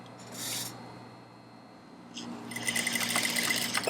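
An industrial sewing machine stitches a corset seam, starting up in the last stretch as a close, fast buzzing run of needle strokes, preceded by quiet room hum and a couple of brief fabric rustles.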